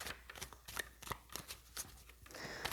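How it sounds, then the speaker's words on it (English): Close, quiet riffling and snapping of a card deck being shuffled, bursts of crisp flutters separated by short pauses. "So I'm going to shuffle a little bit more."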